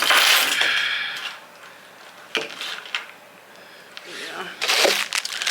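A large bunch of keys jingles and clinks in short bright bursts, close to the microphone, in a busy New York City setting, with a few quieter rustles between the jangles.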